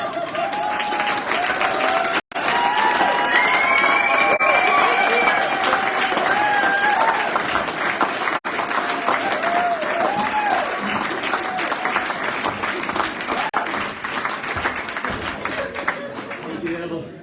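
Sustained applause from an audience at a fireside gathering, dense steady clapping throughout with a few voices and cheers mixed in, two brief gaps in the middle.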